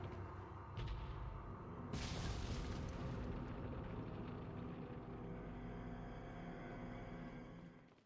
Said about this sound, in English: turning this crank to bring up the cannon to shoot the big old door